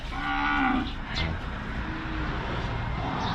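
Cattle at a Thai livestock market in Wang Prachop, Tak, with one clear, fairly close moo early on over steady outdoor background noise.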